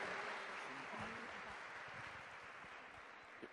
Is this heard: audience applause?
yes